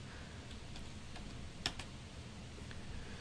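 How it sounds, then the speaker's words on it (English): Typing a Linux command on a computer keyboard, with a sparse run of light, close key clicks, one slightly louder keystroke midway, over steady background hiss and no talk. "I'm going to change the root of the computer by typing cd space slash."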